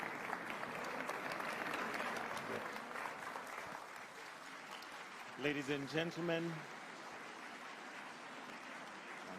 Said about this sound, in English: another hearty, warm clap for Sir Mo Ibrahim and His Excellency, the President, Dr. William Samoei Ruto